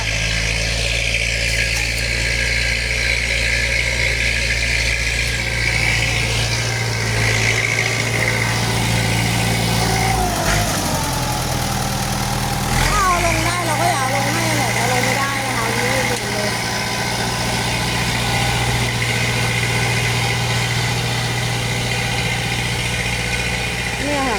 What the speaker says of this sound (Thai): รถไถเอาลงไม่ได้ไม่มีเหลี่ยมค่ะ